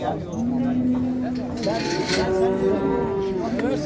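A barren cow at a Şarkışla livestock market lets out a long, drawn-out moo over steady crowd chatter and people talking nearby.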